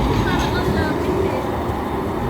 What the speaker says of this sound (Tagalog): Tram yata nila to.